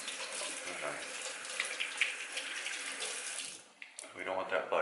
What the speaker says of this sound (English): Every so often, you need to rinse your hands.